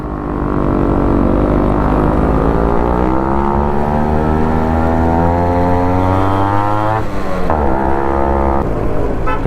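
A car engine labours up a steep hill road near Ooty and Kallatti, loud and close. Its droning pitch climbs steadily, dips sharply near the end, and then rises again with no talking.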